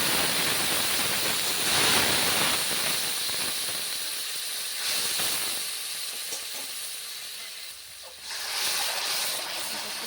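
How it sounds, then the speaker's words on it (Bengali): Boiled mung dal hitting hot oil with fried dry red chillies in a tempering pan, giving a loud, steady steamy sizzle and hiss that eases slightly before flaring again near the end, with no talk. "লঙ্কা ভেজে নিয়েছি, এখন দিয়ে দেব সিদ্ধ করে রাখা মুগের ডাল।"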